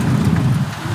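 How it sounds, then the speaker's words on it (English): Rain falls outdoors as a brief, steady wash of dense patter and low rumble, loud and close, with no voices. "it just started raining right before the lipos were done"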